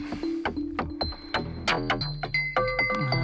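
Bright synthesized bell tones from a Digitone ring out in a quick melodic pattern, each strike trailing into a spacious reverberant tail from the internal reverb.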